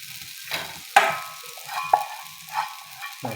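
Rajma dosa batter spread on a hot tawa sizzles with a soft hiss, broken by a few sharp clicks and scrapes of shaping, with no talking.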